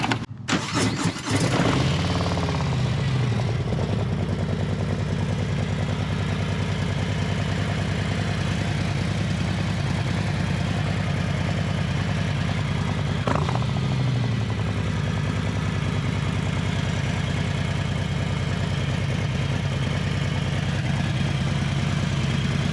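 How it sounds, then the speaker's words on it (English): A Harley-Davidson Lowrider S motorcycle with an M8 engine cranks and fires up, then settles into a loud, steady, rumbling idle that runs on unbroken, with one brief blip partway through. "We're gonna turn on the bike and check the level."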